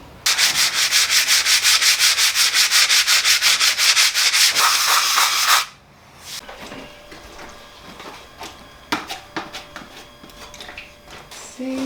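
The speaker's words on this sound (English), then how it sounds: "I'm just gonna have to do it manually with a wood block or just sanding paper in hand" Rapid, regular back-and-forth strokes of hand-held sandpaper rasp loudly for several seconds, then stop, followed by scattered scrapes, taps and clatter.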